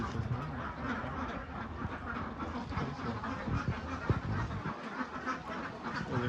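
Khaki Campbell ducks on a farm quacking continuously, a busy overlapping flock of harsh calls heard close up, with no talk.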